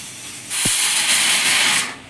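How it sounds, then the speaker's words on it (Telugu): A pressure cooker cooking chana dal lets out a single loud, sustained steam whistle lasting over a second, preceded by a brief click, then cutting off sharply. "ఇప్పుడు 4 విజిల్స్ వచ్చినాయి కదా, ఇంకొక విజిల్ పెట్టుకుందాం."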